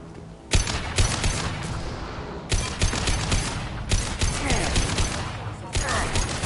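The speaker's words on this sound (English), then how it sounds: "Taking fire." Dense, rapid gunfire from a Mass Effect 2 firefight, with sharp bursts and booming shots layered over continuous battle noise and faint voices.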